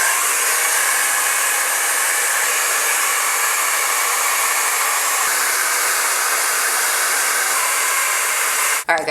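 Steady, loud hair dryer blowing on a lace front wig, a continuous close whooshing roar that holds evenly for nine seconds before cutting off abruptly at the end.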